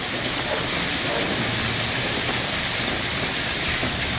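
Heavy hail and rain pound down steadily in a severe thunderstorm and microburst in Gilbert, Arizona, a loud, dense, unbroken roar with thunder mixed in and no voices.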